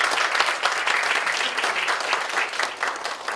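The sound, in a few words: church congregation applauding visitors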